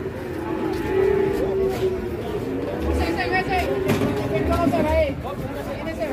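Cattle at the Pon Ambarawa livestock market, a large round bull among them, give low moos amid a busy hubbub of farm animals and chattering voices, with people talking close by throughout.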